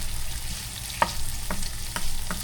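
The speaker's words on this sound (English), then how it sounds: "We're gonna do a sunny side up egg right there." Sunny side up egg frying in a pan: a steady crackling sizzle with a few sharp pops and light spoon scrapes scattered through, close and with no talk.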